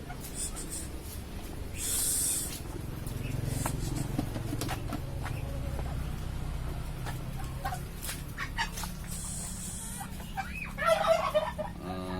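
Scattered clucks and squawks from a flock of turkeys and chickens, with a brief shrill call near the end, over a steady low background hum.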